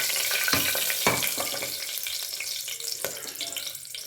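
Cinnamon, cardamom, cloves and stone flower fry in hot oil for a tomato kurma, a dense close sizzle with sharp crackling pops at the start and a few spatters later.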